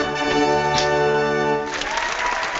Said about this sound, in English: Cue up the applause.